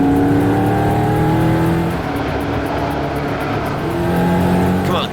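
A EuroNASCAR stock car at the Italian GP accelerates hard on track, its loud engine note rising and shifting through gears, with other race cars close by and a voice over the roar.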